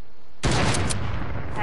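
A video-game gunshot cracks out loudly and suddenly, followed by a short burst of rattling fire that fades, standing alone without talk.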